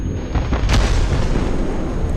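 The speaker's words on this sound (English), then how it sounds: "I'm under cannon fire as well" Cannon fire slamming into an armored vehicle in Crossout, a dense rumbling barrage of loud explosive booms and impacts with a sharp burst near the middle, heard alone.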